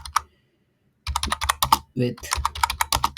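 Fast, close clicking on a computer keyboard, a brief tap, a pause, then a dense burst of keystrokes with a short spoken word in the middle.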